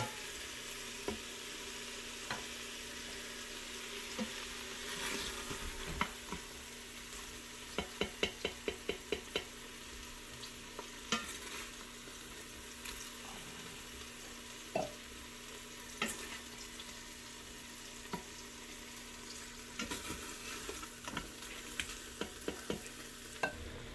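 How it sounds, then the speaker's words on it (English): Meat sears in a pot for posole, giving a quiet, steady sizzle broken by occasional stirring scrapes and clicks, with no voices. "But main thing is you want to get this all nice and seared first, get all that flavor locked in."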